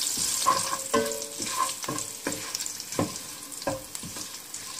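Urad dal and curry leaves fry in hot oil with a loud, crackling sizzle, interrupted by regular scraping stirs against the pan every half second or so.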